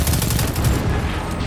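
Gunfire in the co-op shooter Destiny 2, a dense, sustained burst of rapid automatic shots packed tightly together and heard loud and close throughout.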